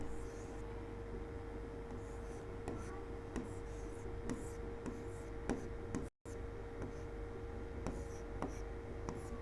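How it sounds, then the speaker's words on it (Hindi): Writing on a board during a maths lesson, a long run of faint scratchy strokes and light taps over a steady hum, with a brief dropout partway through. "यहाँ पे मैं साफ साफ इसे लिख देती हूँ"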